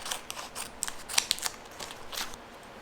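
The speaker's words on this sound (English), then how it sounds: "So I'm gonna cut this apart." Scissors snip through glitter heat transfer vinyl in a series of sharp, close cuts with an uneven rhythm, a denser cluster of snips in the middle, with no talking.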